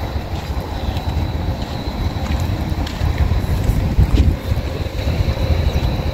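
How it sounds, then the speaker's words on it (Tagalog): Warm wind gusts steadily at the seaside, a continuous low rumbling buffet across the microphone with no voices. "Ayan, mahangin ngayon mga folks, pero yung hangin niya is medyo mainit-init."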